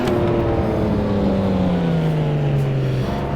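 A Lamborghini Miura's 3.5-liter V12 climbs a hill, a loud, close engine drone whose pitch slowly falls as it pulls under load, steady and continuous.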